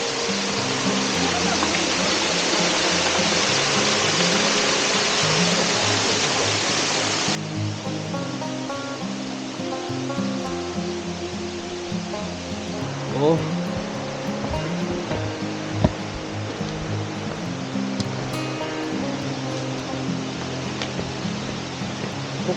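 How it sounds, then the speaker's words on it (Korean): Munpung waterfall on Naeyeonsan, Pohang, pours in a steady broadband roar, loud and close at first, then softer and more distant with a few faint thumps and scattered background noises over the flow. "문풍폭포"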